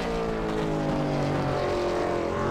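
A Supercars race car in a sim racing video game lapping Bathurst during a top 10 qualifying shootout, a steady, loud engine drone climbing in pitch with no talk over it.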